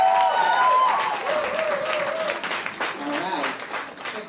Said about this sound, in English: let us just clap your parents